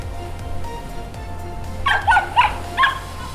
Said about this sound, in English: He ran to the family and barked loudly.